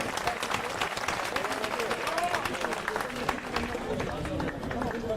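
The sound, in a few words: audience applause for winning athlete at award ceremony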